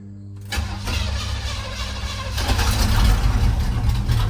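A squarebody truck engine cranks briefly on a warm day, then catches and roars to life, settling into a loud, rough idle nearby.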